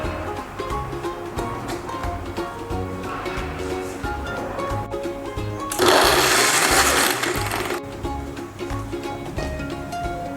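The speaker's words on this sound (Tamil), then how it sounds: "இதை வந்து ஃபியூ செகண்ட் கிரைண்ட் பண்ண போகிறேன்." A mixer grinder whirs steadily, grinding paan laddoo ingredients, with a close, constant motor drone. A louder, harsher burst of grinding rises midway for a couple of seconds, then settles back.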